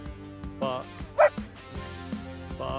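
A single short, loud German Shepherd bark rings out between quiet spoken commands, with a few softer yips and whimpers around it.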